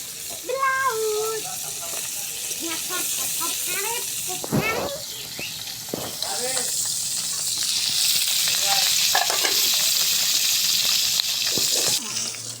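Fish frying in a pan, a steady sizzling hiss that runs throughout and grows fuller in the second half, with someone talking over it in the opening seconds and a few clattering handling noises.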